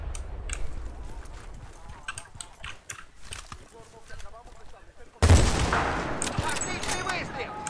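Gunfire in the video game Battlefield 2, rapid bursts of shots and clattering clicks, quieter at first and then a louder, denser stretch of firing near the end.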